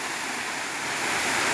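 Waterfall at Cachoeira do Caripina in Felipe Guerra, Rio Grande do Norte, giving a steady, dense broadband rush of falling water that swells slightly louder toward the end, with no voices.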